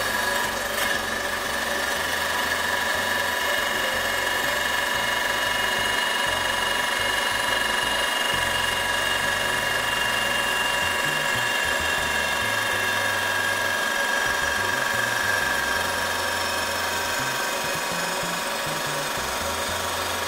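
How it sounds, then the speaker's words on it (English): A stone-cutting saw grinds steadily through a ceramic tile that is spun to cut a circle, a loud, unbroken abrasive whine lasting the whole time with no voices. "You want to let the blade do the cutting."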